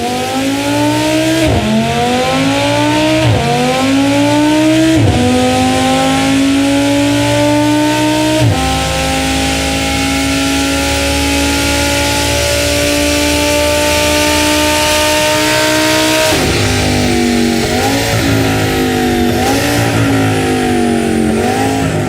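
Audi R8 V10 Plus engine in the Need for Speed racing game, loud and continuous, revving through repeated upshifts with rising pitch sweeps, then holding a steady high drone before climbing through more gear changes.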